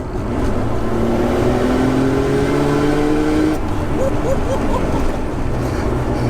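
A Nissan GTR RB straight-six engine swapped into a 200SX, producing about 530 bhp, drones loudly and rises in pitch through a gear, then shifts and pulls again, with engine noise filling the whole clip while people talk over it.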